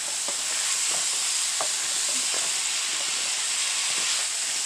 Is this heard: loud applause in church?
no